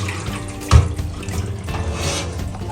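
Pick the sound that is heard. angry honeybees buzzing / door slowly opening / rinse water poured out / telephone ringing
rinse water poured out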